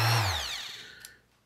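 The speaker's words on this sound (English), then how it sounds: "try the sander out" A Makita BO4900V finish sander fitted with 80 grit sandpaper spins down after being switched off, its loud whine falling steadily in pitch and fading over about a second, close by and with no talking.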